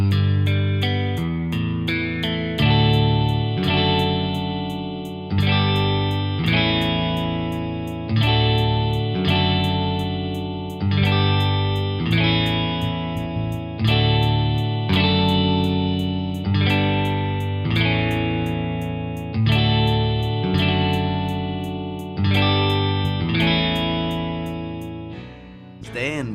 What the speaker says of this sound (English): I'm going to hit record and play the bass pattern as well.